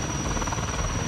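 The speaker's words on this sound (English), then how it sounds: "Firefighting helicopter." Loud, close helicopter rotor noise from a firefighting helicopter, a dense steady chopping drone with a sustained high whine over it, filling the brief moment without pause.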